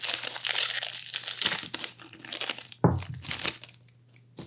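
A foil booster pack of trading cards being torn and crinkled open close up, with loud crackling rips over a few seconds, one sharp tear near the end, then fading rustle, with no talking.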